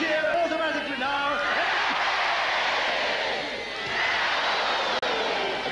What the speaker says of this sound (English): And he's getting a cheer automatically now.